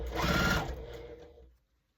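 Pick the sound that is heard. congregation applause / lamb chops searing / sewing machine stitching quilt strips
sewing machine stitching quilt strips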